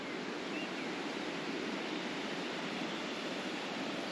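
Steady broadband splashing of small waterfalls in Meiringskloof Nature Park, a constant close rush of water with no one talking.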